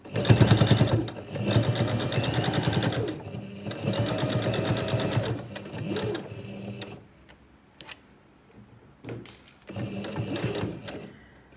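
A sewing machine stitching an iPad mini cover runs in several loud, steady bursts, rapid and close, separated by short pauses where the stitching stops and restarts.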